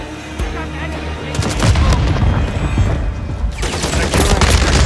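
A frag grenade explodes with a heavy boom amid dense, sustained gunfire in Call of Duty Modern Warfare 3 multiplayer, loud and chaotic, with radio-style voice callouts mixed in.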